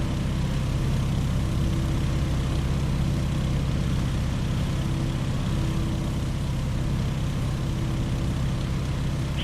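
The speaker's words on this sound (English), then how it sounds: "here's where the Stearman really shines. It's a nice, docile airplane with an open cockpit" A Stearman open-cockpit biplane's engine drones steadily and evenly, filling the whole stretch with a constant, close, throaty hum and no voices.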